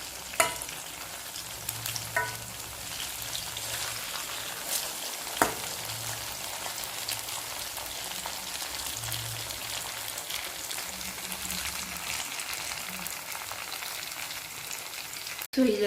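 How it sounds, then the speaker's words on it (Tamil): Crispy balls deep frying in hot oil, a continuous close bubbling sizzle like light rain with occasional pops and faint utensil touches, no voices over it. "ரெண்டு பக்கம் நல்லா பால்ஸ் வேகட்டும்."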